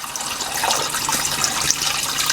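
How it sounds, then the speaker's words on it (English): Filtered water pours steadily into a soup pot holding chicken and bone broth, a continuous splashing gush at close range that runs for the whole stretch with no talking. "we're gonna add in some filtered water."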